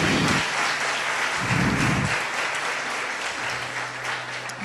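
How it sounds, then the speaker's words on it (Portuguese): A church congregation claps together in a sustained burst of applause that fills the room, easing briefly and swelling again at a steady loudness with no voices rising above it. "Eu gostaria que nessa hora você aplaudisse o Senhor."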